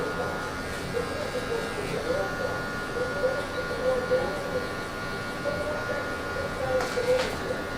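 Electric hair clippers fitted with a 1 guard buzzing continuously while cutting a low taper, with a wavering motor whine as the cut flicks out.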